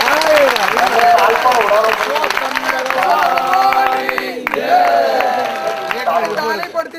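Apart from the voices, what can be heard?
audience clapping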